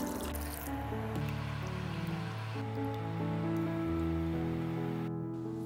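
Water poured into a cooking pot of beetroot mutton, a continuous close liquid fill with gurgling, rising tones for several seconds, alone without talk.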